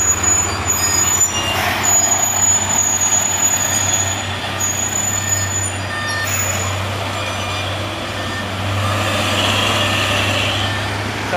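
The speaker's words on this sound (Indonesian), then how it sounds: "Dan ini dua unit trailer lagi sedang menurun" Trailer trucks, among them a Hino, roll downhill on a slippery road, producing a loud, steady engine drone with a low hum and bursts of hissing air brakes.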